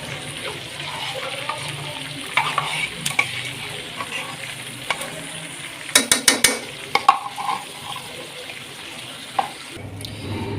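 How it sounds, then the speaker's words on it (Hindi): A thick onion and tomato paste sizzles in a pan while a utensil stirs, with scraping and sharp clinks against the metal. Busy, close and fairly loud. "जो मिक्सी में पेस्ट बनाया है प्याज का और टमाटर का वो इसमें डाल देंगे हम।"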